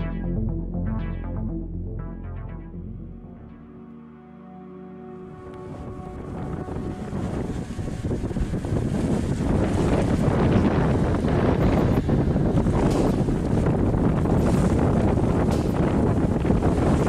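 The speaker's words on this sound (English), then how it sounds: "gusts over 30 knots." Howling wind roars at sea, gusts over 30 knots, building from a quieter start into a sustained heavy rush of gusts and water noise with no voices.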